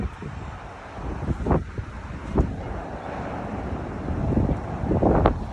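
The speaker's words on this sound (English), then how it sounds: "Oh yes, it is windy." Wind buffets a microphone outdoors on a breezy day in Tampa, Florida, producing uneven rumbling gusts and thumps that swell and fade, heard alone with no voices.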